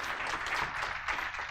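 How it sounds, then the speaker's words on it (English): Applause from a conference audience during a branding talk, a dense burst of clapping lasting the whole moment at steady, fairly quiet volume with no voices over it. "let's give them a round of applause"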